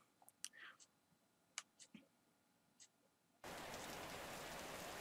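Soft scattered clicks give way to a sudden, steady wash of rain in the video game Cattails that continues evenly to the end.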